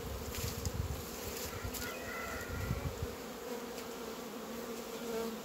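Honey bees hum at an apiary hive, a low continuous droning buzz of many insects close by, steady throughout with small swells and no talking.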